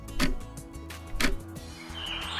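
A clock ticks twice, about a second apart, with crisp, moderately loud clicks over a soft background. A hissing sound fades in toward the end.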